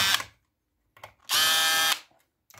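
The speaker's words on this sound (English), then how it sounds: "I will use this drilling machine" A handheld drilling machine backs screws out of the cover of a Pioneer SX-1250 stereo receiver under restoration, with short whirring bursts and one longer, steady, loud spin in the middle.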